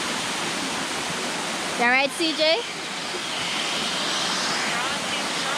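Cascade Falls in Portland, Jamaica, a steady broadband rush of falling water close by, with a brief spoken exchange partway through.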